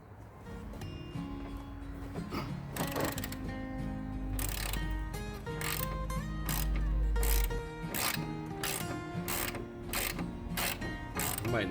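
A ratchet wrench clicks in quick repeated bursts while parts are pulled from the cab of a V&T Canary railroad motor car. Steady metallic ticking and clanks run close and fairly loud throughout, with no talking.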